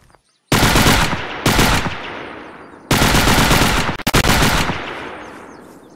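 The KP-31 submachine gun fires in Unturned in loud, close, sustained full-auto bursts, four long strings of rapid shots separated by short gaps, with a tail ringing out after the last burst.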